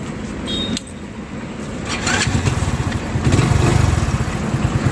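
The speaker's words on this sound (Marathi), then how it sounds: "आता स्टार्ट केली तर होते हे काय" A vehicle engine, recently repaired with new brake liners and a replaced accelerator cable, idles and revs after being started, a steady close mechanical drone that grows louder and rougher partway through.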